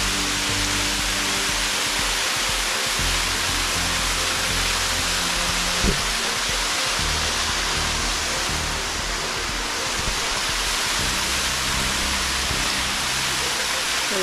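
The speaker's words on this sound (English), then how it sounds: "We've arrived at apparently waterfall number 1." A jungle waterfall near Khao Lak roars in a steady, dense rush of falling water that stays loud and unbroken throughout, with a faint voice briefly audible beneath it.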